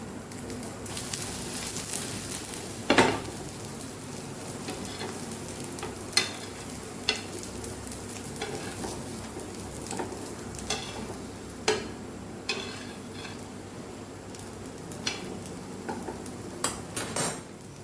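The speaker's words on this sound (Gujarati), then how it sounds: "બધી સાઈડ ફેરવતા બંને સાઈડ સરસ ક્રિસ્પી એવું આપણે આલુ પરોઠા તૈયાર કરવાના છે" Mini aloo parathas sizzling and frying in a pan while being stirred and turned, a steady soft crackle with several sharp clinks and scrapes of a utensil against the pan, no talking.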